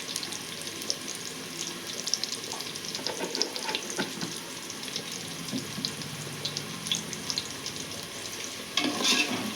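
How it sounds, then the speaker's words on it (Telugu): Onion pieces fry and soften in a pan with salt added, giving a steady close sizzle with crackling pops and occasional stirring scrapes throughout, fairly quiet and without talk. "ఉల్లిగడ్డ ముక్కలు బాగా మగ్గించుకుందామండి ఒక 5 నిమిషాలు."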